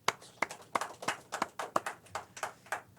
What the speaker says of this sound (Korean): 같이 박수 한번 칩시다